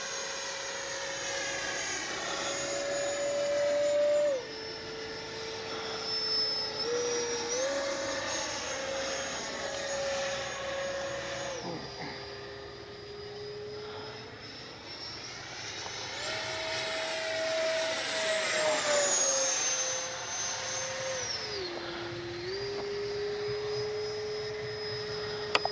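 A Freewing F-4 Phantom II RC jet with gear retracted roars past on a fast pass on a warm day, a loud continuous ducted-fan whine whose pitch shifts up and down as it approaches, passes and recedes.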